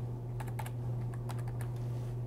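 Folder path typed on a computer keyboard: about a dozen quick, close key clicks in uneven bursts over a steady low electrical hum.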